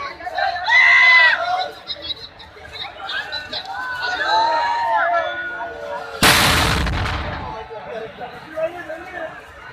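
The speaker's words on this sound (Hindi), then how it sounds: "21 तोपों की इस सलामी परंपरा" A single ceremonial cannon shot from the 21-gun salute at the Shrinathji Janmashtami festival in Rishala Chowk booms out loudly amid crowd chatter, its blast lasting about a second before fading back into the murmuring crowd.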